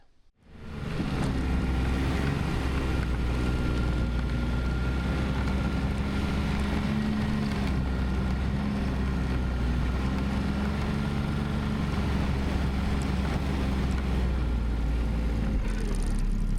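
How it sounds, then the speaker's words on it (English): A snow machine engine drones steadily while dragging cut and limbed logs, a loud continuous motor hum that holds almost unchanged from start to finish. "Lori's going to be running the snow machine, dragging the logs out as I get them cut up and limbed"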